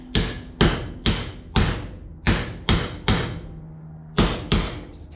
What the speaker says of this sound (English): I've got a copper hammer or your dead blow hammer.